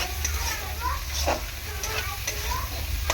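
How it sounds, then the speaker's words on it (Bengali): Spice paste for a Bombay duck and potato curry fries in a pan with a loud, continuous sizzle, broken by repeated scraping stir strokes every half second or so. "মশলাটা একটু কষিয়ে নেব।"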